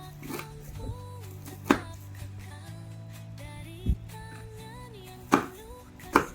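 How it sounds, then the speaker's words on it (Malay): Knife roughly chopping chillies on a cutting board, a few sharp, spaced-out chops over soft background music. "kita potong-potong dulu cili. Potong-potong kasar saja."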